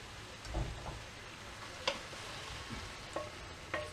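Beef chunks frying in olive oil in a stew pot, with a soft steady sizzle broken by a few sharp scrapes and knocks as the meat is stirred.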